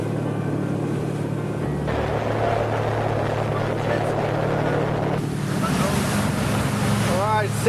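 A jet ski engine runs steadily on the sea off Cabo, its drone mixed with wind buffeting and splashing water, and a few voice-like sounds come through near the end.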